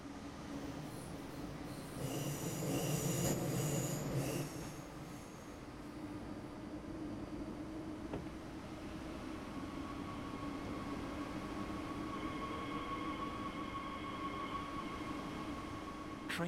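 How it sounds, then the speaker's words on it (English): A Siemens third-generation ICE high-speed train, eight cars, in Train Sim World 2, rumbles steadily along the tracks, with a burst of louder noise early on and a thin high tone sustained over the continuous drone. "This particular train is a third-generation intercity express built by Siemens in Germany for international operations."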